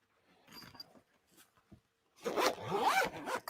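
Zipper opened on a travel putter case, a few faint tentative tugs and then one long, close, rasping pull of the zip.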